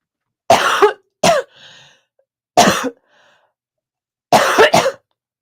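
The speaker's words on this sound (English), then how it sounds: "I got cough." Four loud, close coughing bursts from one person, some coming in quick doubled hacks, separated by near silence with faint breathy sounds between them.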